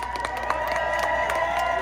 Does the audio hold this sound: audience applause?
yes